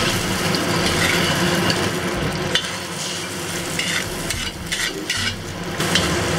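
Eggs scramble in an oiled wok over medium-high heat, a loud steady sizzle with the scrape and stir of a utensil throughout, no talking.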